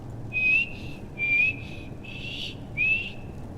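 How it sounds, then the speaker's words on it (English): A person whistles a simple repeated tune, several short rising notes in a row, clear and close against a low background hum. "Practice my whistling"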